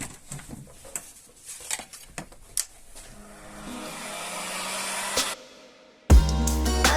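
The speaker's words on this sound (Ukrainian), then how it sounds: "Зараз ще феном посушу." A hair dryer blows with a steady rushing whoosh, cutting off abruptly near the end before a louder blast starts up.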